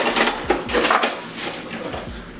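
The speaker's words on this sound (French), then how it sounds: "On va brasser pour incorporer le sucre partout." A spoon stirs two cups of sugar into reducing vinegar in a pot for cranberry confit, giving repeated close scraping and clinking strokes against the pot in an irregular rhythm, with no talk.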